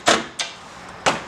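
An upper wooden cabinet door of hard, fine-grained wood shuts with a sharp knock, then closes twice more against its door bumpers, each a brief, clear, nearby thud with no talking.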